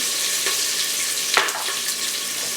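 Herbs and spices sizzling hard in a saute pot for pork vindaloo, a loud, dense, continuous frying hiss close up with a brief stirring scrape partway through.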